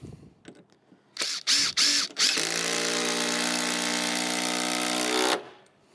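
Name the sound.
power drill driving screws into deck boards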